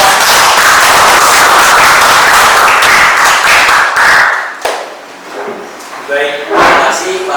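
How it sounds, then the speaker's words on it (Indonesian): Loud audience applause at a morning seminar on charging batteries with rented power banks, heavy and close clapping that fades after about four seconds into scattered claps and room noise. "Tepuk tangan untuk semua."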